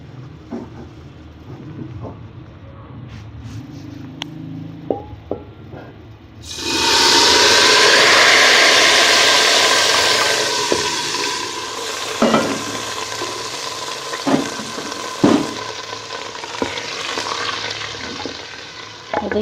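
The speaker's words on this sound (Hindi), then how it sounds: "फ़ौरन इसमें हम तड़का लगा लें" After some quiet clinks, a loud burst of sizzling erupts as cumin seeds hit hot oil for tempering, then settles into steady crackling with occasional stirring clanks.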